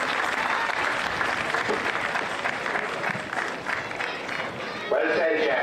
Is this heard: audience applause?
yes